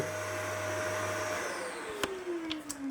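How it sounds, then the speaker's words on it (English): A Hoover vacuum cleaner runs with a steady droning whine whose pitch sags as the motor winds down, with a few sharp knocks near the end and no talking. "Look, it's a Hoover."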